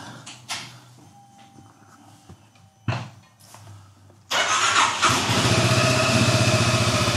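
A Lambretta G 350 scooter engine cranks, fires and catches at about four seconds, then settles into a loud, steady idle with a fast putter, running alone without talk.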